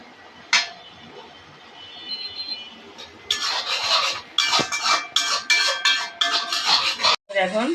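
Pasta spice sauce is stirred and fried in a pan, giving a quiet scrape early on, then from about the midpoint a steady run of loud rasping, scraping strokes that continue almost to the end with one brief pause.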